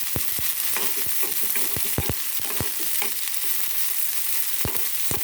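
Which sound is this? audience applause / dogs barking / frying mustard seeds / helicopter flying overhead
frying mustard seeds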